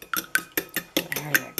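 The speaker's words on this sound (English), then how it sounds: "Just stir it up." A utensil scrapes and taps against a bowl in quick rhythmic strokes, about eight sharp clicks, as egg is stirred into cornmeal muffin batter close by.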